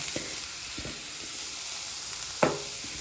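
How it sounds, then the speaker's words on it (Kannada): Vegetables for vegetable oats fry in oil with a soft, continuous sizzle, broken by a few light stirring knocks and one sharper scrape near the end. "ಒಂದು 2 ನಿಮಿಷ ಎಣ್ಣೆಯಲ್ಲಿ ಫ್ರೈ ಆಗಲಿ ಇದು ತರಕಾರಿಗಳೆಲ್ಲ"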